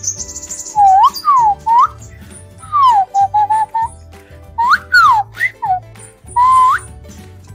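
Human nose whistle (pluit sapung) imitating a white-rumped shama's song: bright, loud swooping and trilling phrases in short bursts separated by pauses, performed close up.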